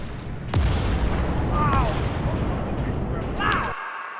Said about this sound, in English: Throughout several hours, explosions keep happening.